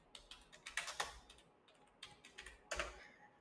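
A computer keyboard is typed on at close range, quick light key clicks in short irregular bursts with pauses between, quiet and alone without talk.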